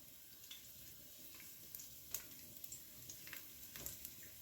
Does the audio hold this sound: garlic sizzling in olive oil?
yes